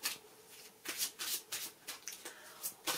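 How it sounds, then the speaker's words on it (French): A deck of playing cards is shuffled repeatedly up close, a rapid run of crisp riffling bursts separated by brief pauses. "Attendez, on bat les cartes."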